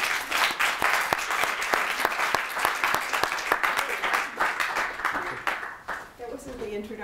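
An audience at the AfterTaste 2015 event at Parsons applauds to welcome a speaker, dense sustained clapping that fills most of the stretch and tapers near the end as someone begins to talk.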